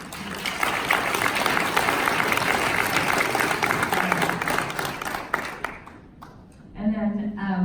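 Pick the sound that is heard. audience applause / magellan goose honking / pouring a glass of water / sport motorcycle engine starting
audience applause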